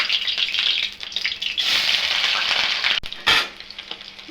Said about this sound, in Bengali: আগে আমি পনির কয়টা ভাজা নিব